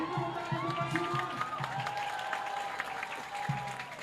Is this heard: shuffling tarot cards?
no